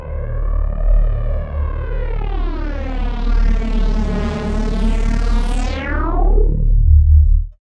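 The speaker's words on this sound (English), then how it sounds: "that delay time is being slightly modulated and then mixed 50-50 on the blend" A sustained, swirling tone from a Lexicon PCM42 digital delay, its short delay time modulated and blended 50-50, with comb-like sweeps that slowly rise and fall in pitch, then shoot upward before cutting off abruptly.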